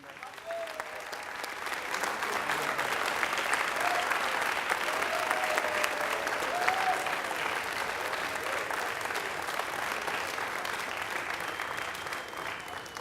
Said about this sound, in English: give them a collective round of applause, please